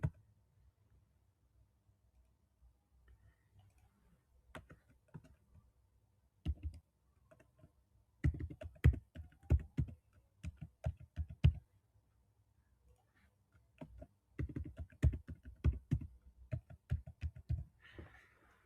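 Keyboard typing as a name and other details are entered into an online admission form, heard as bursts of close, quick key clicks separated by short quiet pauses.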